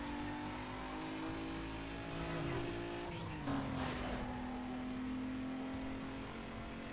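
Car engine in the Need For Speed Most Wanted racing game, a steady droning hum held throughout, pitch dropping slightly midway as the car shifts or slows, with a brief louder burst near the middle.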